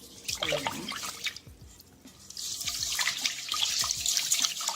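Water running from a tap while rice is rinsed in a sink, splashing and gurgling with drips, a brief quieter gap midway, then louder steady flow and sloshing.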